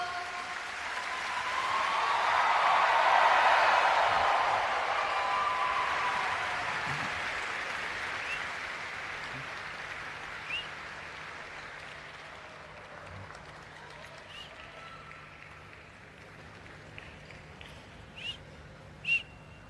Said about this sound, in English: Keep the claps coming, Goa.